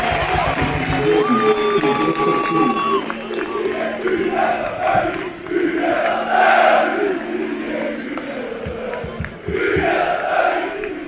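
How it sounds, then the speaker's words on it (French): A large stadium crowd at the Zurich football derby, Grasshoppers versus FC Zurich, roars with chanting voices and applause, a dense, loud wall of sound with swells throughout. "Les applaudissements du stade."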